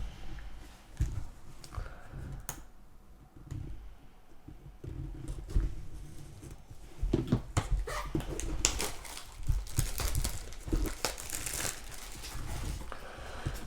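A Japanese Pokémon Shiny Treasure booster display box is opened, with crinkling plastic wrap, cardboard rustling and handling noises coming in uneven bursts, close and fairly quiet, and no one talking.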